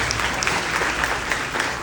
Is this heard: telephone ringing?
no